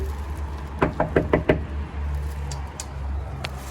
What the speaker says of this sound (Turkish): Evet evdeyim ve şimdi kapıyı çalıyorum.